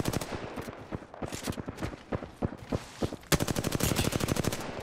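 Rapid bursts of automatic gunfire from the video game Apex Legends, dense sharp shots rattling steadily throughout and growing louder and more continuous in the final stretch.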